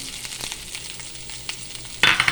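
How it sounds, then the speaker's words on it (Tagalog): Onions fry in a very hot pan with a steady, close crackling sizzle that suddenly grows louder and brighter near the end as stirring begins. No one speaks. "Kailangan na talaga siyang haluin para hindi masunog yung sibuyas"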